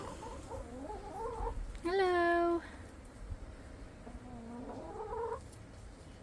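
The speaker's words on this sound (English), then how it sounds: "These are my chickens." Backyard chickens in a home garden let out a loud, drawn-out squawk among softer clucking calls, close by, with a voice briefly heard.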